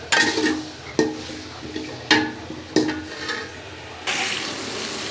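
Potatoes frying for biryani in a pan on an electric stove give a constant close sizzle, broken by several sharp clinks and scrapes of a utensil against the pan, then a louder burst of hiss near the end.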